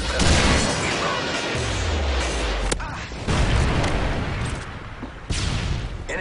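Heavy explosions and gunfire in a Call of Duty Modern Warfare 3 team deathmatch on the Lockdown map, a deep descending boom followed by sharp blasts and crackling bursts in a loud, chaotic battle mix.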